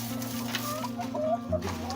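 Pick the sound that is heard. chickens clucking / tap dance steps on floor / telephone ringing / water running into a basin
chickens clucking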